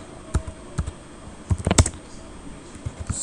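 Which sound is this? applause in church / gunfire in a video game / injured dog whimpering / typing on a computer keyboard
typing on a computer keyboard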